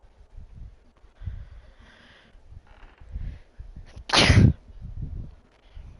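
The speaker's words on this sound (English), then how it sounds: "I sneezed again, you dork." A single sharp human sneeze bursts out loud and close near the middle, set against a low murmur of background sound from a PS5 game.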